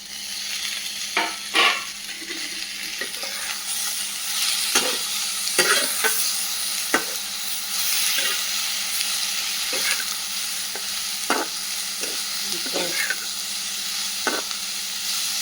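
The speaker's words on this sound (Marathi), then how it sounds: "याला चांगलं परतून घ्यायचं आहे टोमॅटो मऊ होईपर्यंत." Tomatoes fry in oil with onion and red chillies in a pan for butter chicken masala, giving a steady close sizzle broken by repeated scraping stirs of a spoon across the pan.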